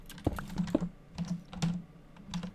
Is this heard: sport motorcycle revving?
no